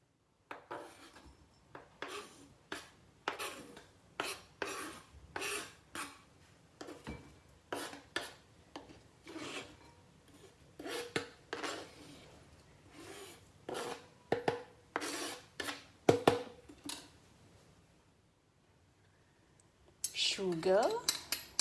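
Balinese raw sambal being mixed with seasoning in a bowl, giving rhythmic rasping and scraping strokes of a utensil, close and fairly quiet, with brief pauses between bursts.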